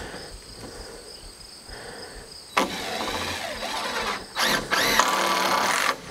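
A power drill drives a fastener through the side of a Shadow Hunter hunting blind, whining in two sustained bursts with a brief pause, loud and close after a quieter lead-in of background hum.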